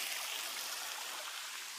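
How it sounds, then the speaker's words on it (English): Tiny waterfall in a gorge, a soft continuous splashing trickle of falling water, faint and steady throughout, heard alone. "There's that tiny little waterfall here"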